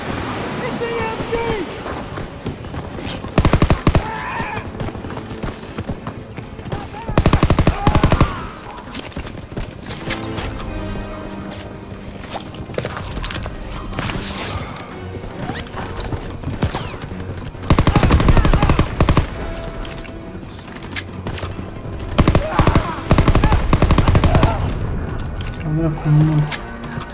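Gunfire crackles through a Call of Duty WWII firefight, with several loud bursts of automatic machine-gun fire standing out over a constant din of shooting and shouted voices.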